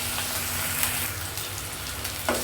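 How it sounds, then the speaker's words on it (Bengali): Ginger garlic paste frying with onions in a pan for an egg curry with potato and tomato, giving a steady, close sizzle throughout with a brief louder hiss near the end. "আদা রসুনটাকে পেঁয়াজের সাথে ভেজে নেব।"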